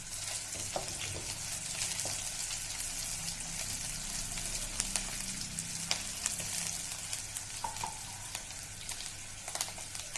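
Chopped onions fry in a pan for an Indian stuffed-brinjal curry, giving a soft, steady sizzle with faint crackles and occasional clicks of stirring, heard alone at low volume.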